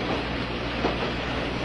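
A train running on rails, a steady close rumble of the carriage and wheels with no distinct clicks or breaks, heard from inside a car.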